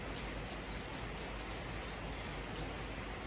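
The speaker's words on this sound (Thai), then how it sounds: "บรรยากาศฝนตกตะมือคืนนี่ค่ะ" Heavy rain falls at night with a steady, even hiss of dense drops throughout, close and continuous. No voices are heard.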